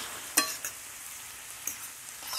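Shrimp fry in a pan for ramen, giving a steady soft sizzle with a few sharp clicks and stirring scrapes near the start and end, heard alone without talk.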